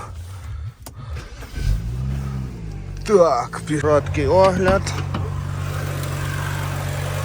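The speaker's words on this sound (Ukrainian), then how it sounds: "Зараз послухаємо, як працює двигун." The 3.0-litre twin-turbo engine of a BMW 335i with 134,000 km on it fires up with a quick crank, then settles into a steady low idle while someone talks over it.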